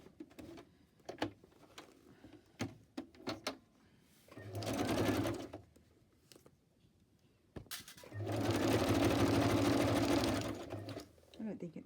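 A sewing machine zigzag-stitches down the centre of a fabric scrap embellishment in two loud sustained bursts, with people talking quietly in the pauses between runs.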